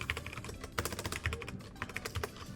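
Typing on a computer keyboard: rapid, close clicking keystrokes in an irregular stream, quiet and without talk.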